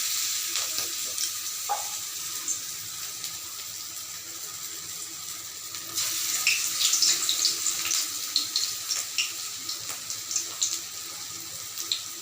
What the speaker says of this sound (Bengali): আমার তেল গরম করা হয়ে গেছে এবার আমি এইভাবে বড়াগুলোকে করব করে আস্তে আস্তে কড়াইয়ের মধ্যে দিয়ে দেবো